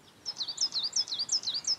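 Birds singing in the Welsh hills, a lively run of quick, bright chirping phrases repeating in a steady rhythm, fairly close and clear over quiet open-country background with no talking.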